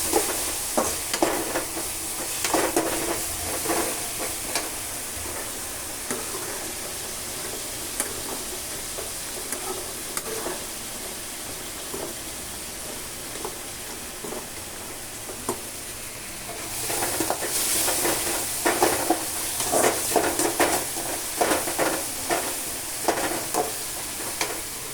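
Onions sautéing in a pan with ginger-garlic paste, a continuous frying sizzle broken by repeated scraping strokes of a spoon stirring, louder and busier toward the end.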